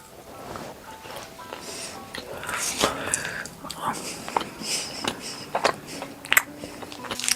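Biting and chewing a rum raisin Christmas treat up close, soft crunches and moist chewing sounds that grow more distinct toward the end, with faint breathy voice sounds mixed in.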